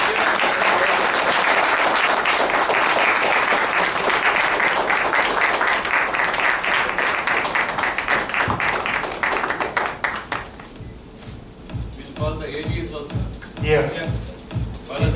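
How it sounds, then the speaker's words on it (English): An audience breaks into a dense round of applause that fills the room for about ten seconds, then thins to scattered claps as voices talk and call out names. "So they all deserve a large round of applause."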